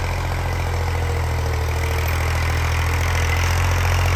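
A Massey tractor engine drones steadily under load while pulling a 16-disc harrow through a field, a loud continuous low rumble with a faint knocking pulse and no talking.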